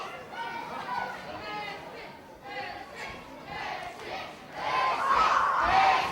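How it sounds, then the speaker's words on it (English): A hostile crowd at an independent wrestling show in Grays, a dense roar of shouts, jeers and chatter that keeps up throughout and swells louder toward the end. "So now a hostile Gray's crowd for Mendoza"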